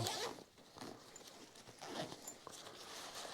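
A pocket zipper on a BAGSMART Blast Pro 40L travel backpack is pulled in several quick, close rasping strokes, quiet and with no voices.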